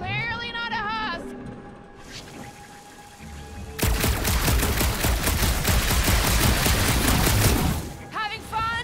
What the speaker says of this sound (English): Didn't think I'd ever be shooting at a resistance ship